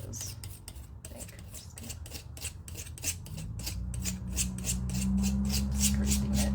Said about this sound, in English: Just scraping it.